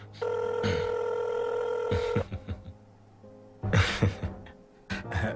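A telephone rings on and off, loud and close, with the repeated bell-like tone left unanswered; brief rustles and bumps occur between the rings.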